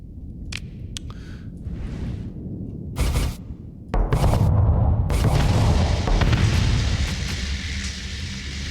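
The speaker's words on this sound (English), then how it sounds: "let's start off by firing some Sabot missiles at it" Sabot missiles launch at an enemy ship in the space combat game Starsector, giving a series of loud booming blasts and bursts that swell into a sustained roaring barrage with no talk.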